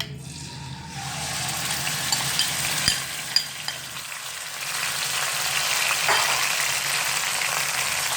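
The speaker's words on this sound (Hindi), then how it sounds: "अब मैं इसमें ये मैरिनेट किया हुआ चिकन डालूंगा।" Marinated chicken hits two tablespoons of hot cooking oil in a kadhai over a medium flame, the sizzle swelling into a loud, continuous fry with occasional clinks of stirring.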